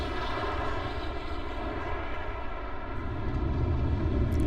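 Rocket engines ignite and roar at launch in Kerbal Space Program with the RP-0 mod, a steady, loud, continuous rumble with a dense low-frequency body that builds slightly toward the end, with no talking.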